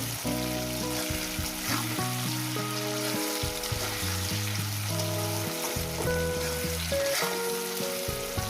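Fish sizzles steadily in a hot pan while being fried for a spicy Bengali fish curry, a continuous crackling hiss running under background music with no talk.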